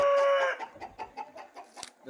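Nemali breed chickens in cages: a drawn-out crowing note fades into a quick run of rhythmic clucks, close and moderately loud.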